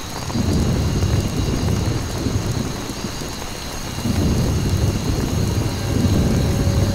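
Thunderstorm with heavy rain in a Vietnam War combat game: dense, steady rain hiss with rolling thunder rumbles swelling twice, loud and close, no talking.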